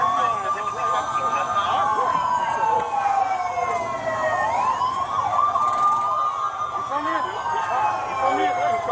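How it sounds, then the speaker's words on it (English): Wailing sirens rise and fall continuously, several overlapping at once, loud and close with a busy background. "Can y'all turn them damn sirens off?"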